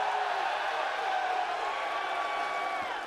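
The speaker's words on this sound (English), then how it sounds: "We got a loud crowd, let's go." Loud crowd at a Miami fight media day, a continuous roar of voices and cheering filling the room, steady and thick with no breaks.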